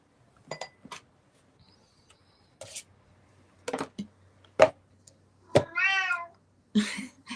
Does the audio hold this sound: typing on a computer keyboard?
no